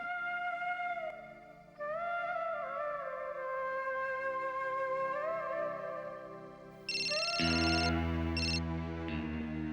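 A ringtone-style telephone ring in a Hindi television drama scene, a tonal melodic ringing pattern that repeats over background score, becoming louder and more layered in the final seconds, with no talking.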